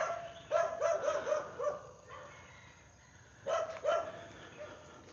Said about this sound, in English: You hear all the dogs in the neighborhood. I walk by and all the dogs go crazy.